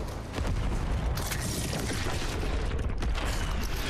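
Grenade blasts in Fortnite gameplay, a dense wall of booming, crackling explosion noise that stays loud and continuous across the whole span with no speech over it.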